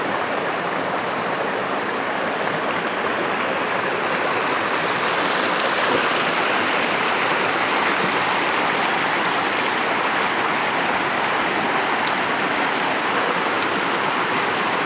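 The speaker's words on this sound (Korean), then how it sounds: "이거 계곡도 좋고, 물이 이렇게 흘러서, 이렇게 해서 이렇게 내려갑니다" Mountain stream in the Muju Gucheondong valley rushes over rocks in a constant, loud broadband roar, close to the listener and unbroken for the whole stretch, with no talking.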